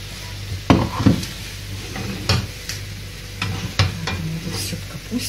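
Cabbage sizzles steadily in a hot frying pan while a utensil scrapes and stirs, with several sharp clacks against the pan at irregular moments.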